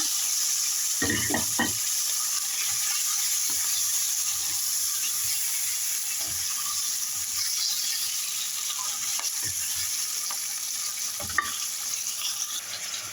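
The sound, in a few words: fish in a quick tomato sauce frying in oil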